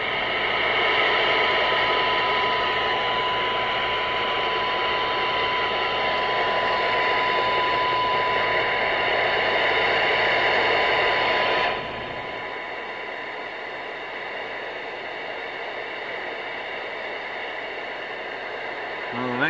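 A Connex 4600 CB radio receives a weak signal through loud hiss and static, a steady tone buried in noise that drops abruptly in level about two-thirds through, then continues quieter.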